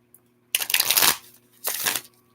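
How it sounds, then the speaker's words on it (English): Tarot cards are riffled in two quick shuffles, a loud close-up fluttering burst followed by a shorter second one, with near silence before and between them. "gotta shuffle it one more time"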